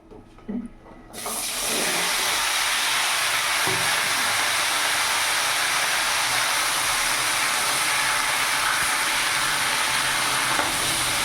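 Chopped pumpkin, potato, carrot, eggplant and Malabar spinach stems hit hot oil after a few soft clatters, bursting into a loud, steady, close sizzle that hisses on without pause.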